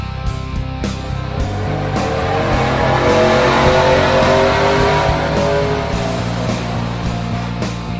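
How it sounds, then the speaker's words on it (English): A Chevrolet Trailblazer SS engine running hard on a chassis dyno, a loud, sustained, dense roar that holds steady throughout. "We're going to dyno test one of our cars behind here, which is a Trailblazer SS."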